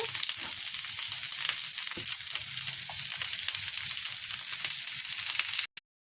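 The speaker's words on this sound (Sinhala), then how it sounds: "මේ ටික හොඳට මැල වෙනකම් තෙලෙන් බදින්න ඕන." Chopped red onions fry in hot oil with a steady, dense sizzle that runs on without pause, close and fairly loud, then cuts off abruptly near the end.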